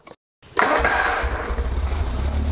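A Westfield car's engine with programmable electronic ignition cranks after a short silence and catches. It settles into a loud, rough, throbbing idle close by.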